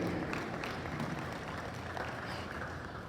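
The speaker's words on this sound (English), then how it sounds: "Let's give them all a round of applause" Spectators at a national bull show applaud the cattle and their handlers, giving a faint, distant, continuous wash of clapping with a crowd murmur beneath it.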